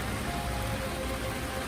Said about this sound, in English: It's amazing being out in the rain.